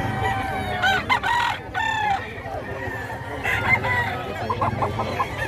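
Several fighting roosters crow in overlapping, drawn-out calls over a busy, noisy outdoor background with low murmuring, at a gamecock market in Bocaue, Bulacan.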